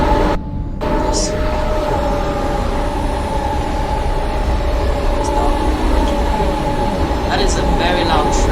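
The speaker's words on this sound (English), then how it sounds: "That is a very loud train." A train on the Cataluña Exprés route in Train Simulator Classic rumbles loudly and continuously with a steady engine drone and a few metallic squeals and clanks, while a person talks over it.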